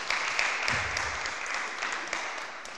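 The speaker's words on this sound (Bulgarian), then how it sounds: "Аплодисменти, моля." Audience applause in a lecture hall welcoming a translator speaker, a steady wash of clapping at moderate distance holding evenly throughout with occasional sharper individual claps.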